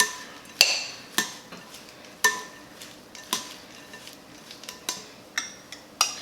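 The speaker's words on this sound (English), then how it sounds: "we're going to just give this a quick mix with the sauce" Spoon clinking against a bowl while General Tso chicken salad is tossed with sauce, a series of sharp, close metallic taps spaced irregularly over soft wet stirring.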